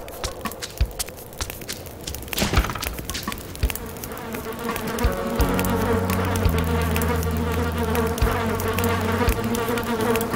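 Bees in the video game Candle buzz continuously and close, a dense droning hum that swells and persists throughout, with scattered clicks and game sounds mixed in.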